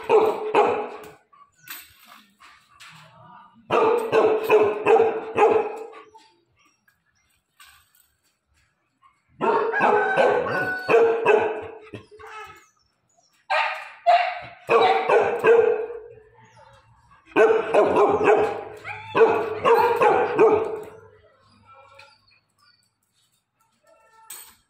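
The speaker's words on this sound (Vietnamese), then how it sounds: "Nghe tiếng sủa nó đã sướng rồi." A dog of about 15 kg barks in loud, close bursts of rapid, harsh barks, separated by pauses of near silence, with faint bird sounds in the quiet gaps.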